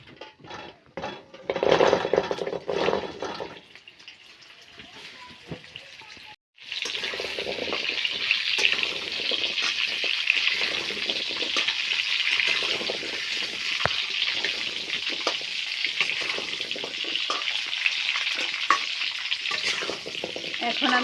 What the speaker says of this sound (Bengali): গরম তেলটার ভিতরে জলপাইগুলো দিয়ে দিচ্ছি, ভালোভাবে সিদ্ধ হয়ে যাবে।